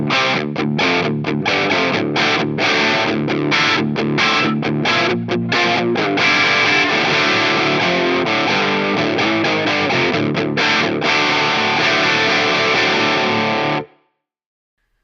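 A heavily distorted electric guitar plays through a BOSS Katana MKII amp with a cabinet impulse response, giving a dense, loud, continuous chugging riff with short choppy gaps early on that cuts off abruptly near the end.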